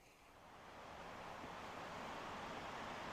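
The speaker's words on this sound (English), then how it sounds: "Sheesh, it's windy out there." Strong wind blows steadily outdoors in a windstorm, a broad low rushing roar that swells slightly and then holds, with no voices over it.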